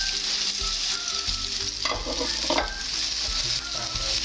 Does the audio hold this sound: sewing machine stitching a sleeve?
no